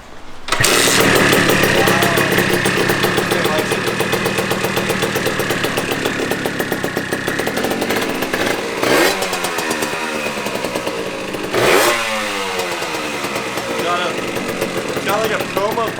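A 1989 Yamaha Zuma / MBK Booster scooter, cafe-raced with a 70cc kit, performance pipe and Dellorto carb, starts up in a garage and settles into a loud, buzzing two-stroke idle with a couple of brief revs, close by.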